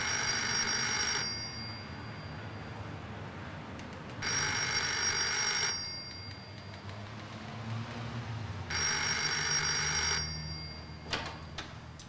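A telephone bell rings in three separate bursts, each lasting over a second, with quiet pauses between them over a low background hum, in a German police drama.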